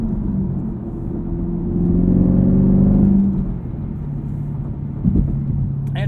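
A Chevrolet performance muscle sports car driving: a deep engine rumble swells as it accelerates, peaks, then eases back to a steady hum, with a brief thump near the end.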